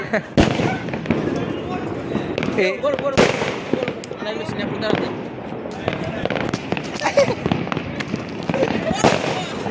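Diwali firecrackers set off among friends, with sharp loud bangs and crackling bursts going off irregularly, some close and some farther off, while people talk and shout over them.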